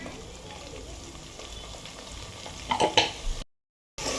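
Ginger stirred into mutton curry in a pan, a low steady sizzle with a brief burst of scraping and clatter before a short cut to silence, then the sizzle resumes.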